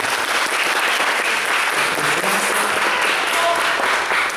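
Audience applause at a school talk on Rio's suburbs, dense, loud and continuous clapping from a sizable crowd filling the whole stretch evenly without a pause.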